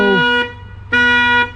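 A school bus with a brake fault sounds two loud, harmonically rich electronic beeps, each about half a second long, separated by a short gap, close and alone.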